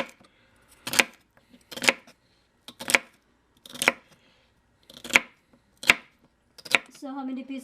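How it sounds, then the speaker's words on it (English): Knife chopping vegetables for turkey soup on a cutting board: seven slow, evenly spaced sharp chops, close and clear, followed by a brief rustle at the end. "If you're wondering why I'm not cutting really fast"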